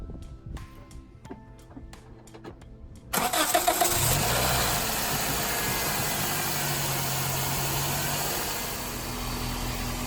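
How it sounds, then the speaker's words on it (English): A 2006 Scion xB engine cranks and catches after a spark plug replacement, then settles into a steady idle, preceded by a few faint clicks and taps. "I'm gonna reconnect the negative on the battery, tighten it down, start it up."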